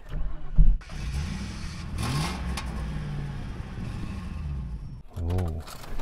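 A limousine engine cranks and catches with a brief rev near the start, idles steadily, then revs again at the end.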